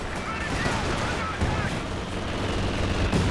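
Aircraft strafing run in the Company of Heroes 2 video game, a dense continuous roar of gunfire and rumbling impacts, loud and close, with a voice talking over it.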